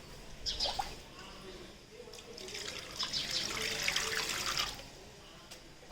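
Water splashes and pours steadily into a tub holding lotus plants for a few seconds, with a faint bird call and quiet surroundings.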